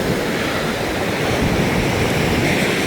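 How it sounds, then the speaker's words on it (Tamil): Heavy sea surf pounds the shore during a cyclone at Mullaitivu, a dense, continuous roar of crashing waves with wind noise, loud and close, with no voices. "அலையினுடைய வேகத்தை வந்து பாருங்க"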